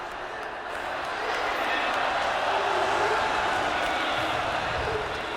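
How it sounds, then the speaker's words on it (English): A large arena crowd at a Dota 2 esports main event swells into a steady roar of cheering and applause, sustained and loud for several seconds. "The crowd were happy with that."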